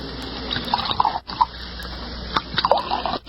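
Liquid poured from a bottle into a glass, close-up gurgling and splashing in short bursts with small clinks and pauses between pours.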